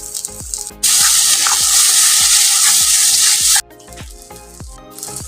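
Pointed gourd paste and onion frying dry in a pan: a loud, steady sizzle for about three seconds, with repeated scraping stir strokes before and after it.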